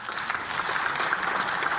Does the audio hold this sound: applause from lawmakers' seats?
yes